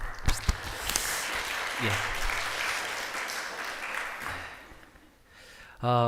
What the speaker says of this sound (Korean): 우리 박수로만 환영하겠습니다